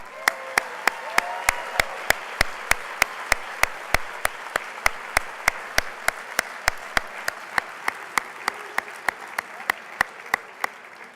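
A banquet audience at the Natcon 2018 SVA Honors Award event applauds fourth-time attendees, a soft bed of scattered clapping under a sharp, perfectly regular series of loud clap-like beats repeating about every third of a second.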